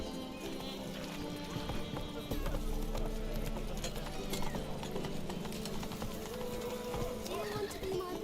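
Roach the horse galloping in The Witcher 3 video game, a quick steady clip-clop of hooves running under a dense bed of game sound, with voices talking over it.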